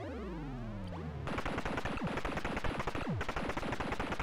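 Rapid gunfire from shooting in an Atari arcade video game, a dense burst of retro electronic shots that runs continuously after a brief tonal intro, loud and close with no talking.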